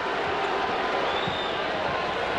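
Dense, steady roar of a large arena crowd cheering at a basketball game between the US Dream Team and China, continuous and loud throughout with no clear breaks.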